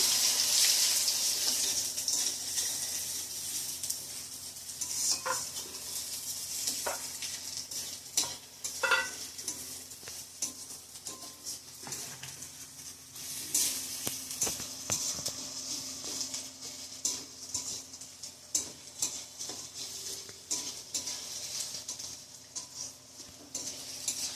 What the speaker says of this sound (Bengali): ডালকে ভাজবো একটু